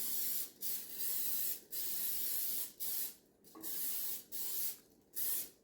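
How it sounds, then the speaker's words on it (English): Short hissing bursts of cooking spray onto a loaf pan, about six in a row with brief pauses between them, close and fairly quiet. "we're going to spray it super, super good"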